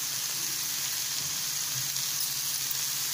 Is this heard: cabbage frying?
yes